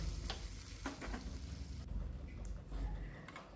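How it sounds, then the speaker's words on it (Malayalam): Mustard and fenugreek seeds crackle and pop in hot oil, a steady frying sizzle with scattered sharp spits and a few clinks, close and moderately loud. "ഉലുവയും കടുവൊക്കെ ഇട്ട് ഉള്ള പൊട്ടിക്കലാണ്"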